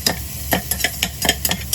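Garlic and ginger frying in a pan, with a spatula scraping and stirring in quick irregular strokes over a soft sizzle, close and fairly loud, no voices.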